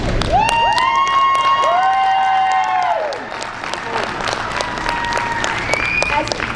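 Commencement crowd at San Carlos Apache College bursts into loud clapping with high whoops and whistling cheers rising over it, the cheering easing after a few seconds while applause continues.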